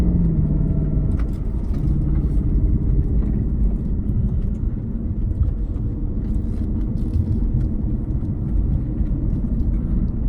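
Engine of a 2020 Ford Shelby GT500 driving on the road, a steady loud low rumble sustained throughout with no clear rise, heard from inside without talk.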